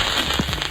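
Fireworks going off in the Roblox game Brookhaven, heard as a short loud crackling pop burst over steady background noise.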